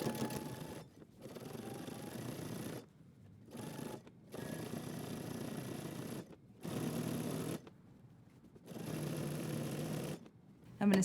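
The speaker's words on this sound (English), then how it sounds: "So now I'm going to go to the sewing machine and we're going to stitch up one side and stitch down the other." Home sewing machine stitching a seam on fabric for track trousers, running in several steady bursts of a second or two each, separated by short pauses, close and clear.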